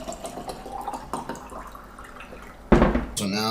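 Water with lemon and lime pieces pours and splashes into a container, light drips and trickles giving way to a louder, fuller pour near the end.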